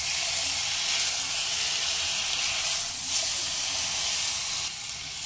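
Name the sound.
chicken pieces frying on medium flame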